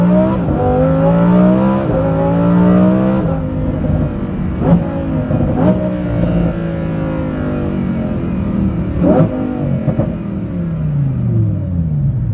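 A Lamborghini Huracan Performante fitted with an Inconel exhaust revs repeatedly, engine pitch climbing and falling in long sweeps with sharp crackles between pulls, loud and close with no voices.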